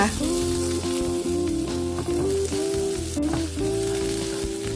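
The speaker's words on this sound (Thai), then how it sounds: "ต่อมาก็ให้ใส่กุ้งลงไปนะคะ" Shrimp dropped into a hot wok for a mixed vegetable stir-fry, sizzling loudly and steadily up close under a constant tonal hum, with no voices.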